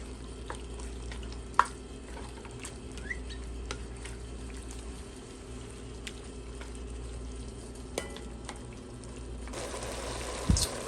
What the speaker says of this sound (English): so it's starting to simmer